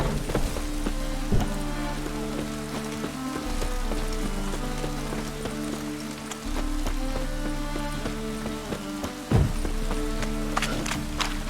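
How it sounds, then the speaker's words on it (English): Rain falls steadily in the fantasy video game The Witcher 3: Hearts of Stone, a continuous patter over a low ambient music bed, with occasional thumps and no speech. "It's raining again."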